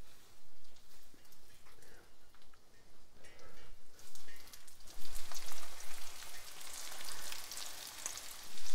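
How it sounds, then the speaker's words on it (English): Fish fillets frying in a frying pan, a steady hiss and crackle of hot oil that grows louder and denser partway through, with no talk over it. "Let's get our fish in the frying pan."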